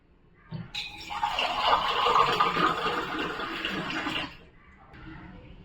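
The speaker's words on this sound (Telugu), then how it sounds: "కొద్దిగా వాటర్ వేసుకుందాం." A steady rush of water pours into a pot on the stove for about four seconds, fairly close and full-bodied, then cuts off leaving a softer trickle.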